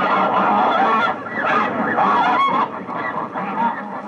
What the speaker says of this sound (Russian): Гуси. Они собираются перед отлетом в большие стаи, и если вам вдруг доведется ночевать поблизости от места их сбора, то под такой гвалт вы вряд ли уснете.